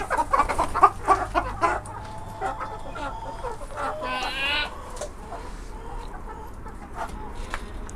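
Chickens cluck repeatedly in a Turkish backyard flock of breeding hens and roosters, the sound coming close and fairly loud at first and then settling into softer scattered clucks, with some nearby human noise.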